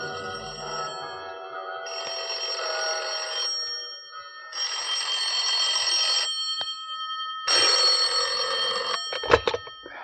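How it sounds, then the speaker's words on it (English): Temple bells at a Buddhist temple give bursts of bright, metallic ringing in several long rings separated by short pauses, loud and close, ending in a few sharp clanks. "That was when the bells started ringing in the Buddhist temple"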